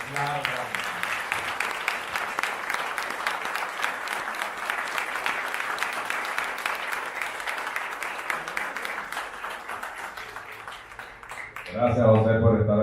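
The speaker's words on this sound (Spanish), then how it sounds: "Un aplauso, un aplauso." An audience at a live event in Spanish applauds warmly and steadily for several seconds, a dense even clapping that fades out before a loud voice begins speaking.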